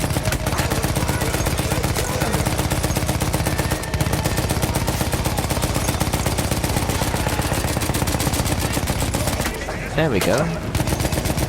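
Dense, continuous automatic gunfire from a World War I battlefield shooter game, rapid bursts running nearly throughout with a short lull near the end, a voice briefly talking over it.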